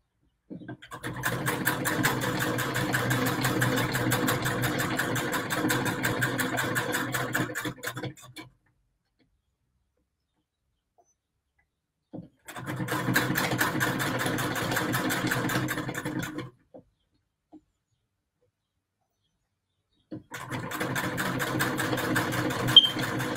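A 1923 sewing machine stitching patchwork, running in three steady bursts of rapid mechanical clatter separated by silent pauses, close and clear.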